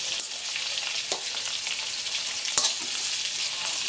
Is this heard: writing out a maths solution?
no